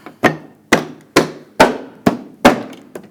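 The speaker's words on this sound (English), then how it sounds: "Tap it in place." Seven sharp, evenly spaced taps as a plastic air intake splash shield on a 2014-2018 GMC Sierra is knocked into place, each a crisp close knock with a short decay, about two per second.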